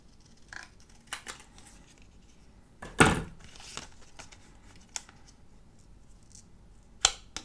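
Scissors cut paper for a junk journal page, a few soft snips up close with one louder, sharper crunch of a cut in the middle and quiet rustling between.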